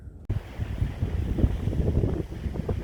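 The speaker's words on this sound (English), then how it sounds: "That noise is a pretty damn strong east wind blowing through here" Strong east wind roars on the Oregon coast between Sand Lake and Cape Lookout, a loud steady buffeting rush that cuts in abruptly and stays heavy, with low gusty rumble against the microphone.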